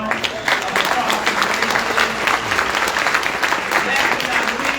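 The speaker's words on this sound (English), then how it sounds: "Let's give them a round of applause." A luncheon audience at an Urban League diversity and inclusion event bursts into sustained applause, many hands clapping steadily and fairly loud across the room for about five seconds.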